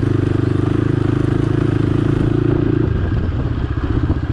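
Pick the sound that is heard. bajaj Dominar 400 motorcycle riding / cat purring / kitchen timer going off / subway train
bajaj Dominar 400 motorcycle riding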